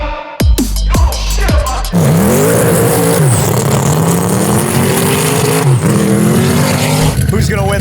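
An 800hp 2021 Audi RS6 Avant and a 950hp 1967 Camaro Pikes Peak Special rev and launch in a drag race, loud rising engine roar with shifts, after a few sharp bursts and with voices talking over it.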